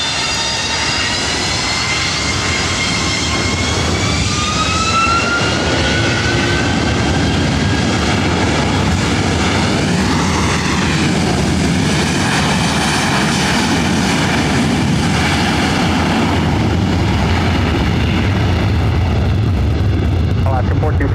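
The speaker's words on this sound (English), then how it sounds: "Runway 24 right, clear for takeoff. 24 right, clear for takeoff, RNAV Sabra, United 1431" A United airliner takes off from runway 24 right at LAX, its engines roaring loud and steady as it accelerates and climbs away. Radio voices from air traffic control and the crew talk over the constant roar.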